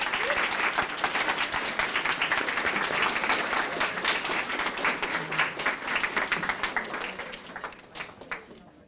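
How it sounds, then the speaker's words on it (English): An audience at a school Black History celebration breaks into sustained applause for the presider, dense clapping that fades away near the end. "Give her a nice round of applause."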